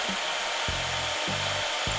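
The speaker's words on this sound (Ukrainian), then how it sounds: "Нічого так не бадьорить зранку, як звук дрилі." Three short bursts of a tool grinding into material with a strong hum, each lasting about half a second, over a constant broadband hiss.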